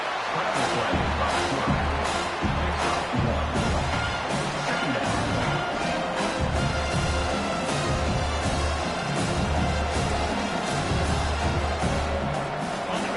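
Football stadium crowd roaring during a game, a constant loud wall of noise with rhythmic low thumps, maybe stomping or drums, throughout.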